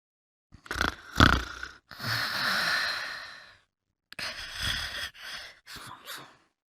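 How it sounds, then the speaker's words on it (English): Heavy, rasping breaths drawn in and let out, like loud snoring, repeating in uneven bursts with brief quiet gaps. "Snore."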